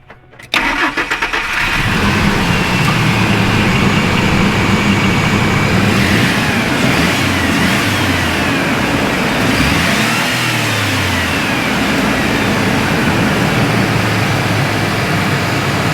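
A 2000 Ford F150 engine cranks and catches after a brief quiet moment, then runs steadily and loudly close by, with one rev swelling and falling midway before settling back to idle.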